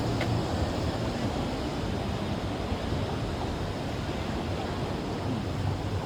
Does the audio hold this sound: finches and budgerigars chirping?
no